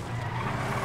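Drift Tampa muscle car engine roaring during a race in GTA 5, a short continuous loud drone with a hint of tire noise and no pauses.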